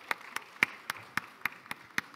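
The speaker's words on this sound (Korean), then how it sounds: "박수로 환영해 주시기 바랍니다." A sparse audience at a real-estate policy talk concert claps to welcome a Hanyang University urban engineering professor, about nine distinct, evenly spaced, fairly faint claps.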